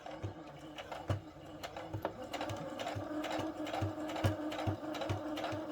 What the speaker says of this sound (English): So we are going to just stitch.